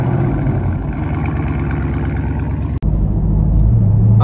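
A Dodge Challenger Scat Pack idles after a warm start, a steady close mid-pitched engine rumble that breaks off sharply for an instant near the end before carrying on.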